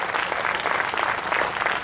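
Audience at a Hindi comic poetry reading applauds steadily, a dense, loud wash of many hands clapping throughout with no talk over it.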